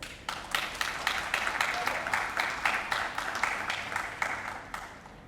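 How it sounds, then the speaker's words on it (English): An audience at the opening ceremony of the Nelson Mandela Bay Stadium Museum claps steadily in a sustained round of applause, many hands at once and fairly close, holding an even level throughout. "I urge you to give MBDA team a round of applause."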